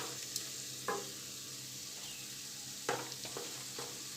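Garlic fries quietly in a pan for a Surat-style cashew and garlic curry, a soft steady sizzle broken by a few sharp clinks and scrapes of a spoon stirring, with no voices.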